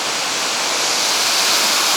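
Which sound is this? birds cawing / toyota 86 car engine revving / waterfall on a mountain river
waterfall on a mountain river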